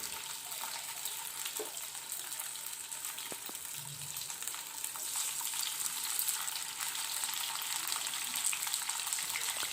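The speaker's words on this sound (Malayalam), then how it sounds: "ബാക്കിയുള്ളതും കൂടെ നമുക്ക് ഇങ്ങനെ തന്നെ പൊരിച്ചെടുക്കാം." Cauliflower pieces fry in hot oil, giving a steady, fairly quiet sizzle that hisses continuously with occasional soft pops and clinks.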